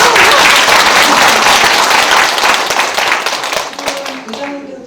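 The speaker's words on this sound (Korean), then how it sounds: "김문구 협의회장님께 다시 한번 뜨거운 박수 부탁드립니다" Loud audience applause fills a hall at a community peace-and-unification lecture event in Gangdong, Seoul, steady dense clapping that gradually thins and fades near the end as a voice begins to speak.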